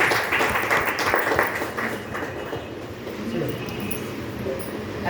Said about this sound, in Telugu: ఒకసారి మేడం వాళ్ళకు సార్ వాళ్ళకు గ్రేట్ క్లాప్స్ అండి